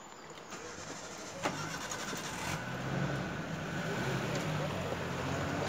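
Safari vehicles drive along a forest track in the Dhikala zone of Jim Corbett National Park, giving a steady broadband engine rumble mixed with wind noise and a brief knock near the start, growing slightly louder toward the end.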